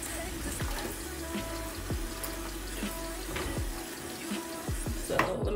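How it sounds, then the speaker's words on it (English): Cold tap water runs steadily into a sink while a dyed blue 613 wig is rinsed under it, with faint splashes and handling sounds over the constant flow. "And I rinse it out with cold water."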